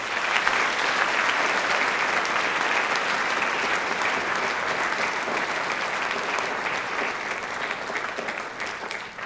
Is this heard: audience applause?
yes